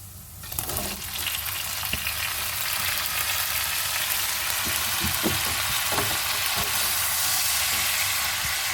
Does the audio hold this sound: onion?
yes